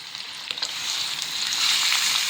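Cabbage paneer pieces frying in hot oil in a pan, a dense steady crackle and hiss that swells slightly as it goes on, close and fairly loud, no speech.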